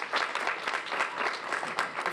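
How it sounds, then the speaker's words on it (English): Audience applause for panelists at a National HBCU Week assembly at the University of Arkansas Pine Bluff, a brief burst of brisk, even clapping from a moderate crowd, fairly soft and somewhat distant. "Please give our panelists a round of applause."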